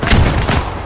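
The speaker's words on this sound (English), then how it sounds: "Wait, they're throwing grenades." A grenade blast in the military shooter Arma 3: a short, loud, close boom with a broad low thump, quickly rolling off into a rumbling tail.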